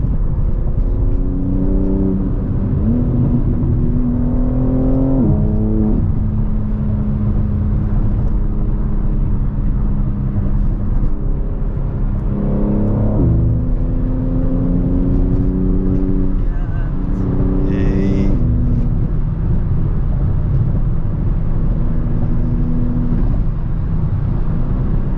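A BMW M3 G80 racing an Audi RS5 at night is heard from inside the cabin: a loud, constant engine drone with several rising revs and gear changes, while people talk over it.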